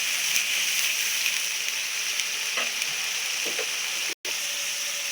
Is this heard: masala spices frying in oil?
yes